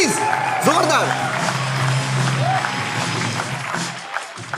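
A studio audience applauds and cheers on a Hindi comedy show for the guest Sheeja Chaturvedi: a dense, steady wash of clapping with crowd noise and a few tonal swoops running through it from start to finish.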